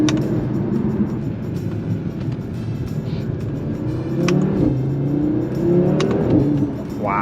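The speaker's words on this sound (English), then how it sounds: "that second gear when the boost builds, whoo, that's fun" An Audi RS3 8V pulls hard in second gear, its turbocharged five-cylinder engine droning steadily and swelling as boost builds, heard from inside the cabin without talk.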